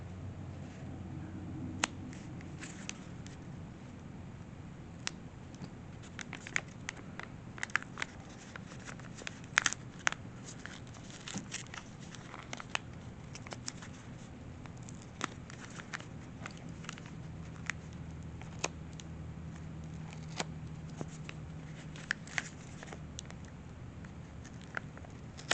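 A dull knife cutting open a packaged pack of cards, a long run of small crisp clicks, snaps and crinkles of plastic wrap close up, irregular and fairly quiet, no talk.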